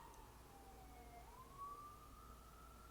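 A siren wails steadily at a distance, its tone dipping then rising and holding, faint against low background rumble.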